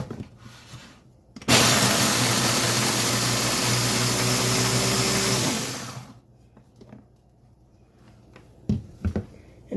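A kitchen food processor whirs loudly for about four seconds, chopping bread into crumbs for a meatloaf, then spins down, followed by quiet clicks and handling noises.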